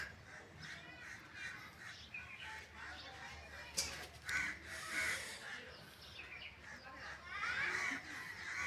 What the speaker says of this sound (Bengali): অনেকগুলো কাক